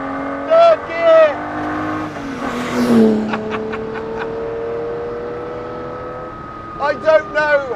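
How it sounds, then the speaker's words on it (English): Ferrari 250 SWB restomod by GTO Engineering revving at full throttle in third gear, a rising engine howl with gear-change dips between short bursts, heard under someone speaking at the start and end. "You just got to listen to it. Full throttle, third gear."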